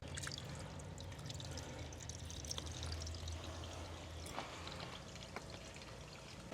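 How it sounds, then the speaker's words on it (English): Water drains from a full pool sand filter through its opened drain plug, a faint, steady splashing trickle that runs alone without pause. "to begin the draining of the filter, because right now it's full of water."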